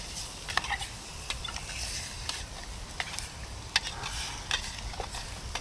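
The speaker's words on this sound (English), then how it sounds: "I'm just quickly browning off this meat." Meat browning in a pan over a red-hot campfire on a sub-zero solo wild camp, with a steady close sizzle and occasional sharp clicks and scrapes as it is stirred.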